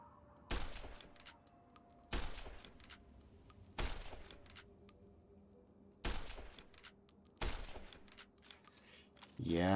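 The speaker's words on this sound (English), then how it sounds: "He doesn't mind firing this often at a bug thing." Gunfire at a flying bug creature in a Fallout game: several separate loud shot bursts spaced a second or two apart, each with a short ringing tail, over quiet game ambience.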